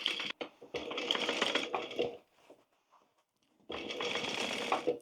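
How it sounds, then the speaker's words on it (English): A sewing machine stitches around the edge of a tote bag in two steady, close runs of rapid needle chatter, broken by a short pause with soft handling noises. "I'm just going to sew around the edge"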